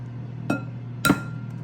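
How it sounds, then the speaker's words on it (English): Eggs being cracked on the rim of a bowl, two sharp separate taps about half a second apart over a steady low hum, close and clear. "I'm going to crack my eggs and just put them in here like this. Crack these up nice and good."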